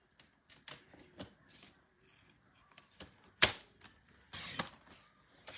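Paper is cut for a folding card craft: sparse, close, quiet snips and rustles with one sharper click partway through.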